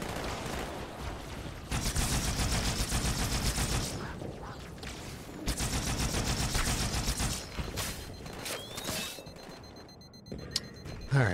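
Needle gun fire in Halo 2, rapid bursts of crackling shots in clustered volleys with brief gaps, loud and close amid game combat noise.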